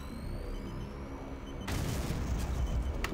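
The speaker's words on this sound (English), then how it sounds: "Let's throw some grenade in there." Grenade explosions in the video game Doom 3, a low rumbling background that suddenly bursts into a loud, broad blast with crackling debris continuing to the end.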